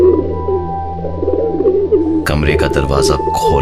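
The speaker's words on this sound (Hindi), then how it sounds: "तो एक कबूतर कमरे के अंदर घूम रहा था।" Pigeon cooing inside a room, soft repeated low coos heard close by, with someone narrating over them throughout and a sharper burst of sound partway through.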